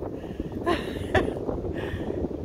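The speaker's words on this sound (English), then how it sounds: "big gust of wind came up, blew my hat off, and almost knocked me down" A strong gust of wind buffets the microphone outdoors in historic Shasta, California, a rough low roar rising in a few surges over about two seconds, fairly close and loud.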